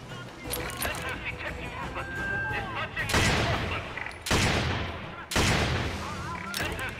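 Gunfire in the video game Lost Planet 2, with loud bursts of rapid shots in two or three heavy volleys over a busy background of game effects and faint voice murmur.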